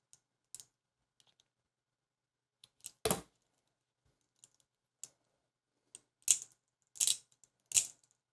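Metal balls rattle inside the arm of a Mackie RX-02 fidget spinner. Sparse, sharp clicks and short rattling bursts come at irregular intervals and grow louder and denser toward the end, close up with no talking.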